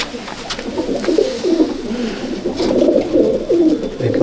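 Racing pigeons in a loft at a multi-day pigeon flying match in Kolkata coo continuously, several overlapping throaty warbling calls rising and falling close by, with no one talking.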